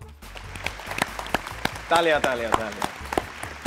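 Students at a school quiz competition clap for the fastest team, with scattered sharp claps at moderate distance and a group of voices chanting a name over them.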